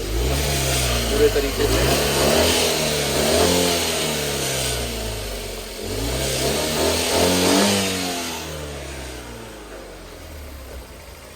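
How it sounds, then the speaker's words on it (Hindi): Tata Nano small car engine being revved during a major service, rising and falling in a few swells of revving over a steady idle, close and fairly loud, with someone speaking briefly over it. "थोड़े से रेस दे देते हैं गाड़ी में,"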